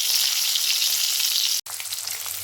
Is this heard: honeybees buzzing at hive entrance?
no